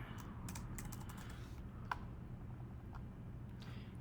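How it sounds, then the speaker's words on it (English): Typing on a computer keyboard in a quiet room, a soft, fairly steady run of close key clicks with one sharper tap, no talking. "And I'm going to type in the author."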